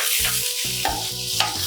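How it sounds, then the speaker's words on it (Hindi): Chillies and tomatoes fry for misal in hot oil with a bright close sizzle, while a steady pulsing hum runs underneath and a couple of stirring scrapes cut through. "डालेंगे हम मिर्च। इस तरह से इसको हम भून लेंगे। डालेंगे हम टमाटर,"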